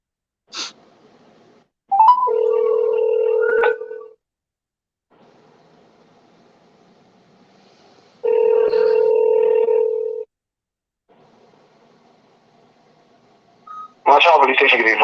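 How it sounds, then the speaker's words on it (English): A telephone call being placed to a police station on Abaco in the Bahamas: two long, loud ringback tones a few seconds apart, each standing alone over a faint line hiss, with a brief voice at the start and the end. "I'm going to get them on the phone."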